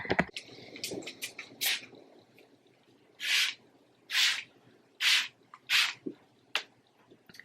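Great Value fabric refresher spray mists onto a couch in five strong, evenly spaced hissing bursts, close and loud, after a few shorter sprays and handling noises.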